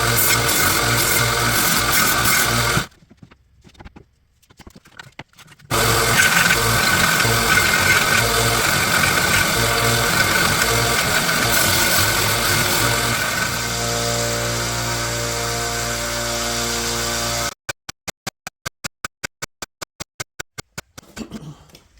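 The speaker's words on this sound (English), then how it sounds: "just do a light grind" Belt grinder lightly grinding corrosion off a 100-year-old cleaver, a steady loud abrasive whine with a brief pause, then sustained grinding and a closing run of sharp intermittent bursts.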